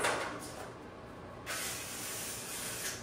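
Cooking spray hissing onto baking dishes in a kitchen, two close bursts of aerosol spray, the second starting partway through and lasting to the end, fairly faint overall.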